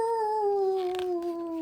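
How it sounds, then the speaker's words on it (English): A single long, sustained howl glides slowly downward in pitch, steady and fairly close, with no talking over it. "the pack's answering howls"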